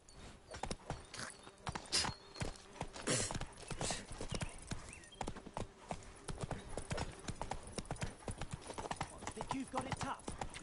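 Roach, a horse in The Witcher 3, trots with steady clip-clop hoofbeats close by, loud and rhythmic throughout, while voices talk over the hooves.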